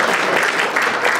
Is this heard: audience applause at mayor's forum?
yes